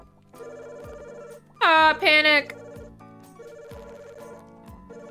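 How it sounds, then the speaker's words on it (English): A telephone rings in a dungeon-themed animated game, with two short bursts of bright electronic ringing over steady background music, and voices speaking around it. "Oh my god, the phone's ringing!"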